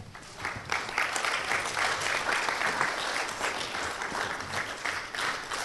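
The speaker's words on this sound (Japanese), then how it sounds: "皆さんちょっと拍手で" Sustained applause from a room full of people at a press club event, steady clapping with no talking over it.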